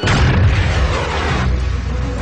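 A Panzerfaust rocket fired at a tank in battle bursts into a loud, dense explosion, a continuous roaring boom that fills the short clip and eases slightly toward the end.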